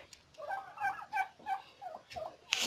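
Turkeys in a breeding shed at a turkey farm in Rajshahi let out a rapid run of throaty, warbling gobbles, close by and fairly clear against a quiet background.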